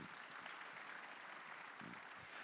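At a summit session, an audience applauds, producing a steady, faint, even wash of many hands clapping at a distance, continuous throughout without any voices over it.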